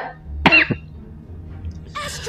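A streamer playing as Odette gives one sharp, close cough with a quick second burst right after. Quiet room hiss follows, then faint game sounds.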